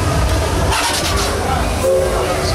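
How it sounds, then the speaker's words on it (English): Steady rumble and clatter of a Magic Kingdom railroad train in motion, loud and continuous throughout, with a faint murmur of riders in the background. "Finally on the train,"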